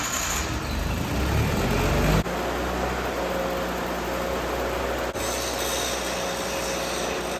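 Small engine of a 50th Anniversary Miller Bobcat 225 portable welder running steadily close by, a continuous rough drone with a slight change in tone early on and no talk.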